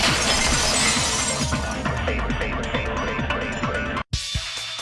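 A vase shattering in the Danganronpa video game, with a loud burst of crashing, scattering glassy fragments that fills the clip and is cut by a brief gap near the end.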